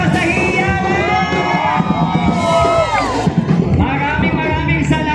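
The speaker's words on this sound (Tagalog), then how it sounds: "Barangay Malinaw sa Malakas na Hiyawan" A crowd at a barangay gathering during a Pasig anniversary celebration cheers, yells and whoops loudly and continuously, with excited voices rising over the dense noise throughout.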